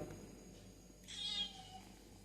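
A domestic cat gives a single short meow, close and fairly quiet, against a faint low background hum.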